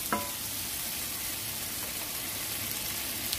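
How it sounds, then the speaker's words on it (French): Cherry tomatoes sautéing briefly in a pan give a steady, soft sizzling hiss, close and unbroken, with a small clink at the start and no talk. "je vais mettre dedans des tomates cerises que je vais juste faire revenir un tout petit peu"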